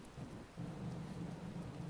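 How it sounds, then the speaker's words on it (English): Steady heavy rain with low rumbling thunder during a stormy, windy night, a continuous close wash of downpour that swells louder partway through, with no voices. "Okay, so it's raining a lot."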